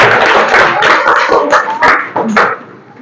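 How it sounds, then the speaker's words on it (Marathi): Schoolchildren in a village primary school quiz clap together in a lively burst of quick uneven applause, loud and close, with faint voices mixed in. "टाळ्या वाजवायच्या सगळ्यांनी"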